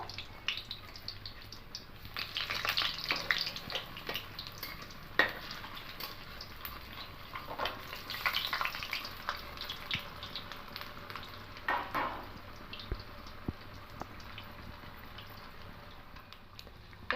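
Close, continuous sizzling of an egg cheese bread sandwich frying in hot oil after being flipped, with crackling bursts, a few utensil taps and surges of spattering, and no talking.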